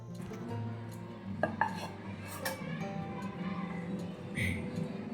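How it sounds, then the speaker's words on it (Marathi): Pots and dishes, including a kadhai, being scrubbed and washed by hand, with clinks, scraping and knocks of metal cookware close by while a voice talks faintly in the background. "अगोदर मी सगळे भांडे घासून घेते"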